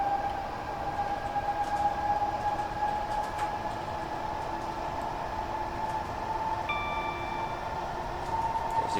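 A Class 378 electric train runs on the Brighton Main Line near Croydon in Train Simulator Classic, with a steady rumbling roll, a sustained motor whine and a brief higher tone joining partway through.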